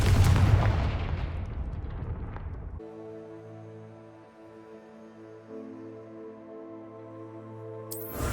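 A Confringo spell explosion in Hogwarts Legacy bursts with a loud booming blast that rumbles and decays over a few seconds, then gives way to a steady tonal game music drone.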